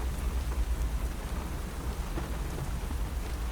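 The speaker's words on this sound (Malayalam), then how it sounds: "മഴ തന്നെയല്ലേ" Steady rain falls with a continuous dense hiss, moderately loud and close, with no voices over it.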